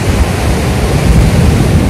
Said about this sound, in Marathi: आपला आवाज येत नसेल पण वारा खूप आहे